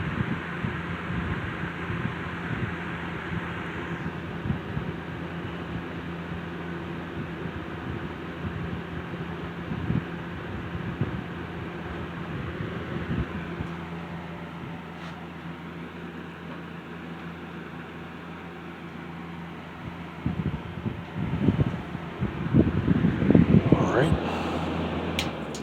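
A 1950s Lasko window fan runs on its low setting with a steady, even whirring hum. The hum continues throughout, with a few louder bumps and rustles toward the end.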